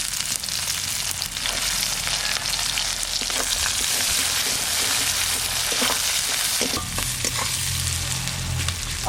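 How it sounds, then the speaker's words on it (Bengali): Chopped onions hit hot oil already holding whole spices, cinnamon, cardamom, cloves, mace and bay leaves, for a village-style Bihari chicken, giving a loud, steady sizzle close by with scraping stir strokes throughout and no talk. "এবার দিয়ে দিচ্ছি এর মধ্যে কুচনো পেঁয়াজ।"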